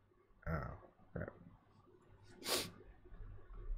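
A single sharp, explosive sneeze bursts out close by, preceded by a couple of short breathy sniffs, with quiet room noise around it.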